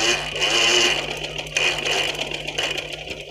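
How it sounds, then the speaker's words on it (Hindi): A sewing machine stitches black thread around the neckline of a ladies' kameez, humming with a close, steady whir and slight changes in pace as the fabric is turned. "अब ये देखें, मैं सिलाई लगा रही हूँ"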